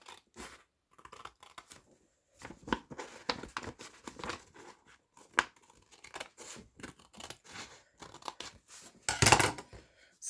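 Paper is cut with scissors for a handmade journal page, a series of close, crisp snips and rustles in an irregular rhythm, with a louder crinkling burst near the end.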